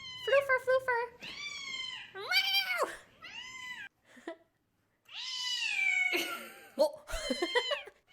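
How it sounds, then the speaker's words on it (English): A cat meows repeatedly in drawn-out, rising and falling cries, loud and close, with a voice speaking briefly between them. "I know, what a gorgeous cat!"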